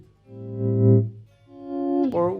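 Electric guitar volume swells imitating a violin, two notes fading in smoothly from silence, swelling and receding, the second rising to a brighter attack at the end, no talking.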